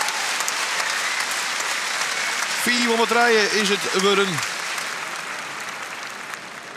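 Audience at an equestrian competition breaks into sustained applause, a dense steady clapping that fills the whole stretch while someone talks briefly over it partway through.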